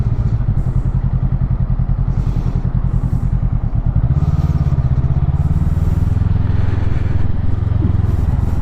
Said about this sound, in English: This bike feels really nice and light. It's pretty easy doing this kind of town filtering.